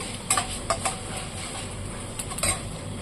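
Garlic fries in a pan while a utensil stirs it, a soft continuous sizzle broken by a few clinks and scrapes of metal against the pan, close and unaccompanied by speech.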